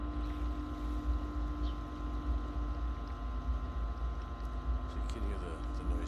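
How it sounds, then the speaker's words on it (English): Steady mechanical hum and churning water from a pool pump drawing through a Flowclear skimmer, its tone shifting slightly as a skimmer port is blocked by hand; continuous and fairly loud close by. "So you can hear the noise difference in the pump when you block that side."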